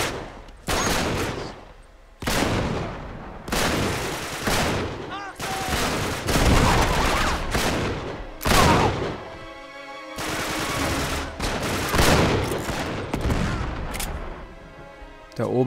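Gunfire in the video game Uncharted 3: Drake's Deception, loud bursts of shots and rapid volleys repeating every second or two with short gaps, some booming impacts mixed in.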